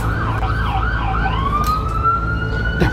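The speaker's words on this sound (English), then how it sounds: "That's an ambulance." An ambulance siren wails loudly in a rising and falling pattern over steady road rumble, then settles into a long sustained tone as the vehicle passes close by.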